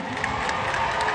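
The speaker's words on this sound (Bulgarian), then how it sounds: "Аплодисменти за Лина!" An audience at a year-end finale event claps and cheers, a close and fairly loud crowd wash with shouts and whoops over steady applause.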